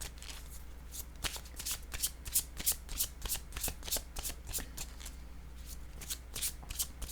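Cards handled and picked from a deck, one yellow card drawn: a run of crisp, rapid flicks and riffles in quick rhythm, close and clear with no talking.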